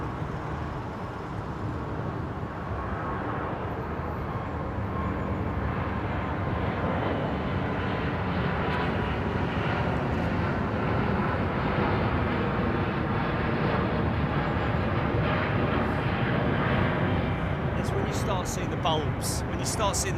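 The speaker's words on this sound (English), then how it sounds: "So we got Nick's missus on this plane" An airplane takes off at London Heathrow Airport: a sustained engine roar that holds steady and slowly swells, heard under wind and intermittent talk.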